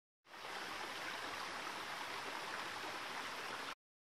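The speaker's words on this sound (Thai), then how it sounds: "วันนี้น้ำไม่ค่อยเยอะเท่าไหร่นะครับน่าจะฝนทิ้งช่วงนะครับ" Pang Sida waterfall in Pang Sida National Park, Thailand, running with low flow, gives a steady, even rush of falling water heard nearby without a break and without voices.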